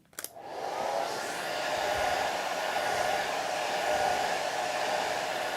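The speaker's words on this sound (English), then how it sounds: "Now I got to blow dry this a little bit too." A hair dryer blowing on a watercolor painting, a steady close whooshing roar that starts after a brief click and runs evenly, loud and alone.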